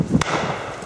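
A shotgun fires at a beaters' day shoot, one sharp crack with a rolling report, then a second short bang at the very end, close and loud.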